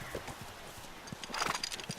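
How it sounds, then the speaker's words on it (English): A horse walks with hooves clip-clopping in The Last of Us video game. A few hoof strikes land in a loose rhythm. The sound is close and moderately loud, and a faint bit of game ambience sits behind it. "I've decided this horse's name is not Clop Clop, by the way"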